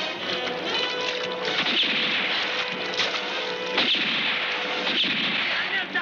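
Gunshots ring out over a boat's running motors on a river in an Amazon jungle action film, a few sharp cracks standing out from a steady roar.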